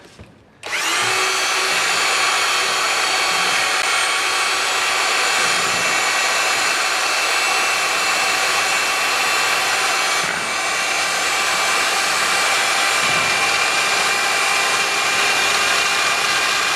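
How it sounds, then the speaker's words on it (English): A handheld electric drill fitted with a mixer churns white Veneziano plaster with tint added, running loud and steady at a constant whine for about sixteen seconds after a quick spin-up, with a brief dip partway through. "Put the drill back in there."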